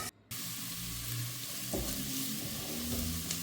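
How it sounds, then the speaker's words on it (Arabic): Vermicelli frying in oil in a cooking pot, a steady close sizzle with light stirring, briefly cut at the start, then continuing evenly with no voices. "الطنجرة الثانية خلينا ننزل كمان الشعيرية"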